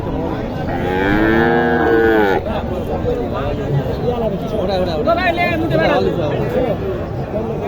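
Cattle moo loudly and close at a cow market with Sahiwal and improved-breed heifers, a long drawn-out low call in the first seconds over steady crowd chatter and talk, with further animal calls mixed into the babble.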